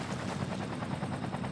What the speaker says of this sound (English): Such a big house fire that they've even called in the helicopters.